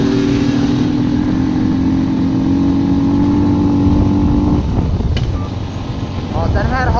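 A 70cc moped rides up close with a steady droning engine note that shifts and drops as it nears, heard under talk.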